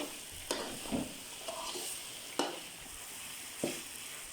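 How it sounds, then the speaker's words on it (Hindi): A spoon stirs makhandi halwa in a pan, a Chakwal-Talagang sweet, with a steady close sizzle and hiss cut by a few sharp scraping strokes about a second apart. "मुसलसल चमचा हिलाते रहेंगे और हमारा पक्का रहेगा हलवा।"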